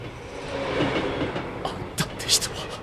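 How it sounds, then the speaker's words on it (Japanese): A train rumbles steadily at a distance with a low, continuous roar, punctuated by a few sharp metallic clanks and squeals near the end. "さあ電車が来るぞ。"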